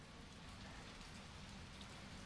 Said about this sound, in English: Ooh, it's rainy.